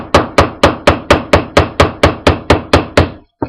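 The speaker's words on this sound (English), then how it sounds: "I like to stick mine in a piece of suede and use my hammer to hammer it" Wire ear wires laid on a piece of suede are struck with a hammer in a steady run of about twelve sharp, evenly spaced blows, loud and close, with a brief pause before one last strike.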